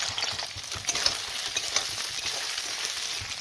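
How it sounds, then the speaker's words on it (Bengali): Soybean chunks dropped into hot oil, frying with a steady, close crackling sizzle and faint stirring scrapes, with no talk. "তেল গরম হয়ে গেছে, এবার আমি সয়াবিনটা ছেড়ে দিতে দেবো।"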